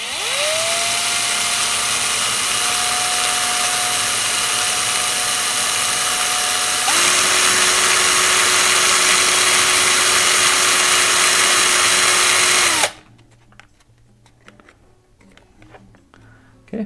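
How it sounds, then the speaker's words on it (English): A small power drill spins steadily while sandpaper rounds the tip of an Estes Screaming Eagle model rocket part, a loud whining motor that shifts pitch once midway, then stops abruptly and leaves quiet room noise. "just run the drill and sand the tip and get a rounded edge to it"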